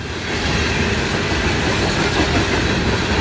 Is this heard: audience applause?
no